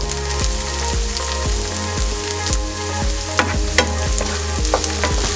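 Chicken frying in a pan with slit green chillies, a loud continuous sizzle broken by rhythmic spatula scrapes and stirring knocks roughly every half second, close up with no talk.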